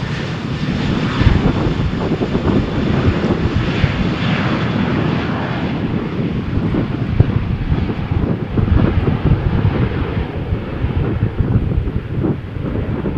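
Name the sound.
Jet2 airliner taking off on runway in wind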